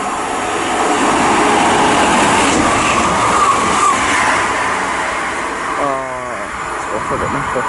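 A Class 158 diesel train runs through Keynsham station with a loud, sustained rumble and a whining pitch. A short horn-like tone sounds near the end, and a voice is heard over it.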